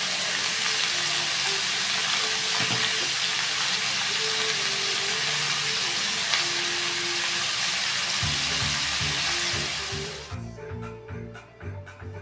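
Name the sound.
young jackfruit frying in mustard oil in a wok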